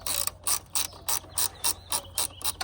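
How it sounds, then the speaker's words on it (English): Ratchet removing 15 mm bolts on a Jeep JL, close and loud: a steady series of about ten rasping pawl clicks in even strokes, with no talking. "What we're going to do first is go ahead and remove those bolts."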